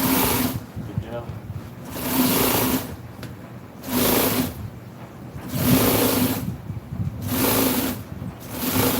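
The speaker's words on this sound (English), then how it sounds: "Sewing these inserts together." Sewing machine stitching inserts for a 1974 Ford truck seat cover, running in short whirring bursts about every two seconds with brief pauses between, while a person talks.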